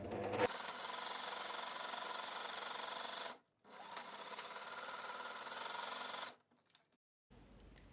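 Overlock sewing machine stitching the seam of an oversize T-shirt being taken in, two close, steady whirring runs of about three seconds each, separated by a brief pause and ending in quiet.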